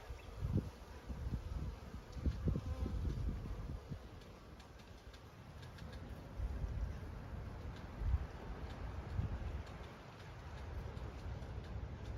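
Honey bees fly at a hive entrance in a bee yard in March, a low, steady outdoor buzz with light rustling, continuous and moderately close.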